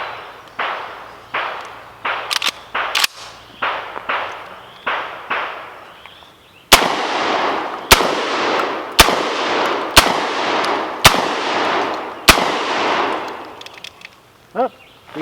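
VR80 shotgun firing from a 19 round magazine at an outdoor range, a quick series of sharp blasts with ringing decay, then six louder evenly spaced shots, close and loud.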